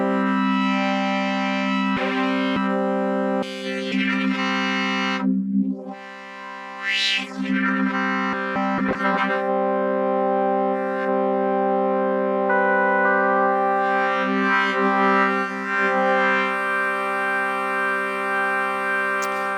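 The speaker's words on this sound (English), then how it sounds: "Now the timbre is being modulated by the LFO, and you get that kind of a cool," A Microfreak synthesizer plays a glassy wavetable tone with its timbre swept by an LFO, a dense, sustained, harmonically rich drone that shifts and warbles with brief dips, loud and without voices.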